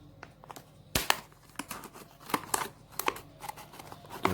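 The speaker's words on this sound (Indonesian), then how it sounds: "Pertama kita siapkan cangkir, kita potong terlebih dahulu," Scissors snip through a cup during a simple craft project, giving a run of sharp, close clicks and crinkly cuts at an uneven pace against a quiet room.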